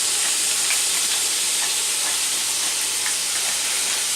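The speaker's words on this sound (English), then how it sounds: "We're not looking to get color on the veg, we're just looking to cook it down. You're just sauteing it." Vegetables sautéing in a pot as the base for chicken and vegetable soup give a steady, close, fairly loud sizzle and hiss that runs without a break and has no talk over it.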